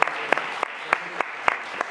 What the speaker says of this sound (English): I appreciate that support and the applause.